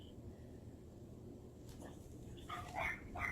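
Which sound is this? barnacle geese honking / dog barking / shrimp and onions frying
dog barking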